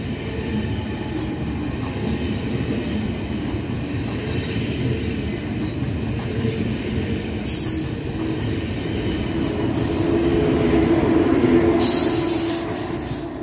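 An ICE high-speed train from Hamburg-Altona to Munich passes through a station near Würzburg Hbf, a long, steady rumble of rolling wagons with a sustained wheel squeal rising toward the end, close and loud throughout.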